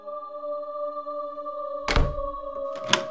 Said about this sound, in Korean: 현관문이 열린다.